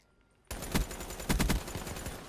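Rapid video game gunfire in a one-on-one gun game match bursts in after a brief quiet start, a loud dense volley of shots with a few heavier clusters.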